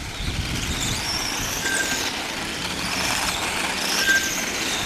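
A radio-controlled Jaguar-liveried F103 model car at a club race track rounding a hairpin, its high electric whine and tyre squeal rising and falling as it passes, with other cars buzzing around the circuit and no talk.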